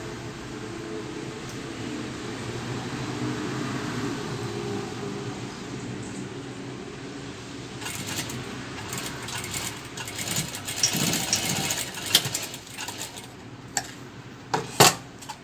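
Sewing machine stitching the fold of a 3D three-layer face mask, a steady mechanical whir throughout with sharper clicks and small metallic taps in the closing seconds, no talk.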